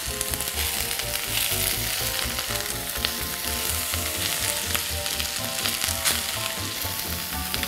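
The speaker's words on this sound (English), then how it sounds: "when you're sauteing mushrooms, you gotta make sure your pan is always hot because you don't want them soggy" Mushrooms sauté in a very hot pan, giving a loud, dense, continuous sizzle and crackle close up, with occasional clinks of stirring and no voices.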